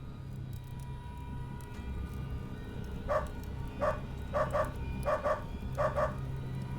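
A dog in the video game UnderRail lets out several short barks, mostly in quick pairs, at moderate distance over a constant low ambient hum.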